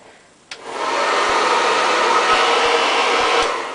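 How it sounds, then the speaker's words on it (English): A hair dryer switches on with a click and roars steadily, a loud continuous whoosh of blowing air that holds nearly four seconds before easing slightly. "I pretty much always start drying my hair with my head upside down."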